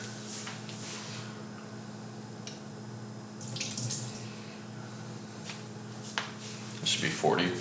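Liquid egg whites are poured into a small sink, giving a faint trickle and splash under running water, with a few scattered clunks and brief rustling near the end.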